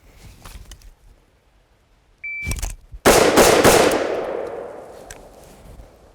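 Rifle firing rapid shots in a high-ready shooting drill outdoors, loud sharp reports close together with a ringing echo that fades, preceded by a shot timer beep, no voices.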